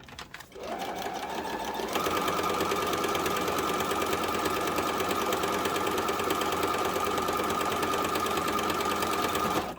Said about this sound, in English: I'm going to head over and stitch that down